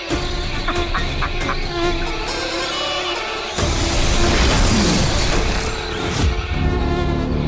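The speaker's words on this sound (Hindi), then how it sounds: "पर इतने सारे मच्छर।" A swarm of mosquitoes used as a TV drama sound effect makes a loud, dense, continuous whining buzz that swells and thickens partway through, heard alone without speech.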